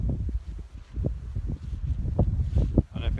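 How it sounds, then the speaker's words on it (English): Strong wind gusts buffeting the microphone during a tornado warning with thunder nearby, a low rumbling roar that surges and fades in repeated bursts, with no voices. "It's windy."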